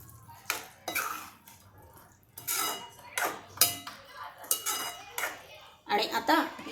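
A spoon stirs bisi bele bhaat in a metal pot, giving irregular clanks and scrapes in bursts with short pauses between, close and fairly loud.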